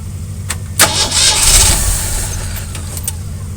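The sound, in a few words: Jeep CJ7 engine starting with jump box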